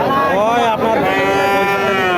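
A cow at a border-area cattle market gives a loud, close, drawn-out moo that wavers in pitch, with a brief dip midway before the call continues.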